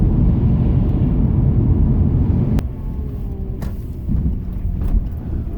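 A 2004 Toyota RAV4 with a 2.4-liter inline-four and five-speed manual driving, heard as a steady loud low rumble of engine and road noise from inside, easing slightly partway through with a couple of faint clicks.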